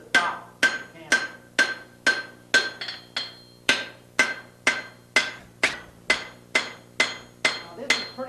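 A blacksmith's hammer strikes hot stock on an anvil in a steady rhythm of about fifteen sharp, ringing blows, each clang decaying before the next, close and alone.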